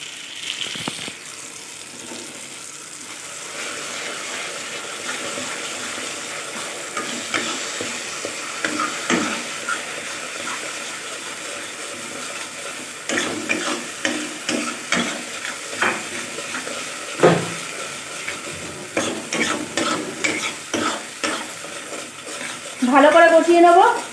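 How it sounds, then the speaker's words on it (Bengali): A paste of ground poppy seeds, cashews and charmagaj melon seeds sautéing in a pan: a soft, continuous sizzle with repeated scraping stirs that grow busier toward the end, close and fairly loud, with no speech. "ভালো করে কষিয়ে নেব।"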